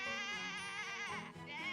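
A sheep bleats in the Professor Layton vs Phoenix Wright video game, one wavering, quavering cry held for almost two seconds and heard alone.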